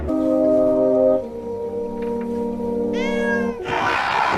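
A cat meows repeatedly in drawn-out, tonal cries, close and fairly loud, ending in a higher wavering call and a burst of noise.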